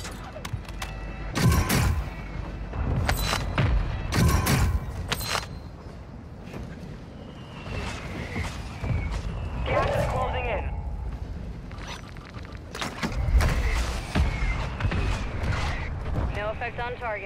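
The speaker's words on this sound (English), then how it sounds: "Mortar strike inbound." Mortar strike in Call of Duty Warzone 2 at Sattiq Caves, several heavy explosive booms and blasts spread across the clip, some clustered in quick bursts, with a radio voice and other sounds between them.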